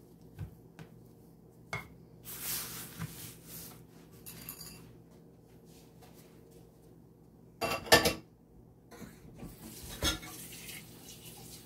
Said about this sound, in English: I'm gonna drop them on the cookie sheet right now.